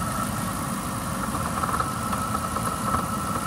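A 2005 Ford Crown Victoria Police Interceptor idles steadily, with a low engine rumble and a faint rattling buzz from a vibrating radiator shroud or cover, close and continuous with no talking.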